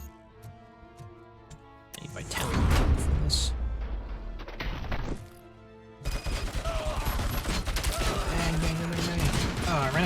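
Gunfire from the video game Robocop: Rogue City comes in dense, loud bursts of rapid shots, broken by a short pause, with a voice talking over parts of it.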